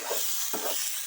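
Boiled pork frying in a pan with oil rendering from the meat, a continuous bright sizzling hiss with faint stirring pulses, close and steady.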